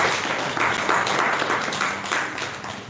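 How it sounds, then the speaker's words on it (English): An audience at a live Shapers Network Africa gathering applauds a speaker, a dense steady patter of many hands clapping for about three seconds at moderate loudness, with no voice on top. "Round of applause for you."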